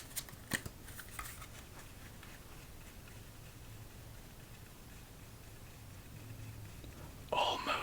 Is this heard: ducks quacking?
no